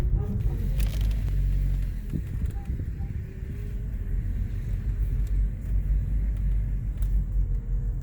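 A race car rolls onto the north section of a pit lane, its low engine rumble close and steady beneath faint wind noise.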